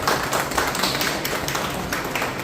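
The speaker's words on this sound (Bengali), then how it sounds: "সবাই হাততালি দেবে।" Audience clapping steadily at a Joy Baba Loknath gathering during a final-day campaign rally in Howrah, a dense continuous patter of many hands with no voices over it.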